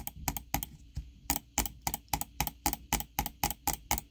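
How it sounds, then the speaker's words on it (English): A Logitech G Pro X Superlight 2 mouse button clicks repeatedly, a close, crisp run of sharp ticks in a steady rhythm, some arriving as quick doubled clicks, with no talking over them. "you can hear that it registers the click two times, and that registers as an actual double click"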